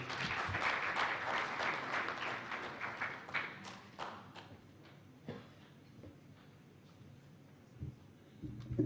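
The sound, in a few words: audience applause for an ambassador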